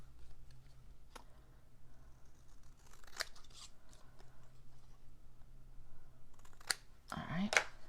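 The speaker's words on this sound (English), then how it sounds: "I'm just gonna trim it by hand." Paper is trimmed by hand with scissors for a floating triple pocket card, a few sharp snips and crisp rustles scattered over a quiet room hum, close and fairly faint, with the last cuts loudest.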